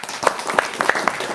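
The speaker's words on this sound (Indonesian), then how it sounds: "Ya, tepuk tangan dulu dong." An audience breaks into brief, dense applause, with many hands clapping together in a fast, even patter.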